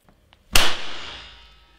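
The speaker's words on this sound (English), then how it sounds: "The mechanism is now locked, loaded, and ready to shoot." A homemade shotgun axe fires a shell with one loud, sharp blast and a long fading tail, preceded by two faint small clicks as the loaded, locked mechanism is readied.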